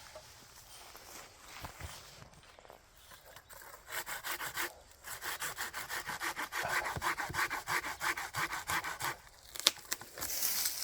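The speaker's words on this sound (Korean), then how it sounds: "그늘을 가리고 있는 가지를 먼저 하나 제거를 좀 하겠습니다" A hand saw cuts through a tree branch in steady back-and-forth rasping strokes. The sound starts faint and uneven, then becomes a quick, regular rhythm up close.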